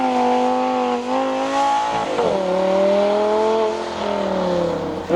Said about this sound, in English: or driving a Lamborghini